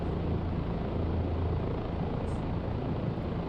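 Kiowa observation helicopter in the DCS flight game, a steady dense rotor and turbine drone filling the whole stretch at constant loudness with no talking.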